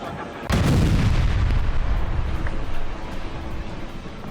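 An Israeli air strike on Khan Younis in Gaza: a heavy blast lands abruptly, then a long loud rumble and roar keeps rolling on for several seconds, dense and distant-sounding, with no voices.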